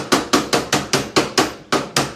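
A metal container knocked repeatedly, about ten sharp hard clanks in a fairly steady rhythm, close and loud, with no voices.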